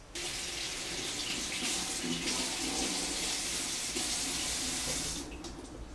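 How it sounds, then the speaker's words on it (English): Green onions (spring onions) rinsed under a running kitchen tap, a steady, close, full water rush splashing into the sink for about five seconds before easing off, with no talking. "And I'm going to first wash them and then start slicing."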